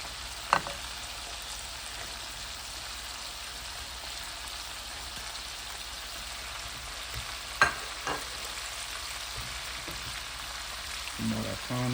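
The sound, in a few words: vegetables frying in a pan: baby corn, green beans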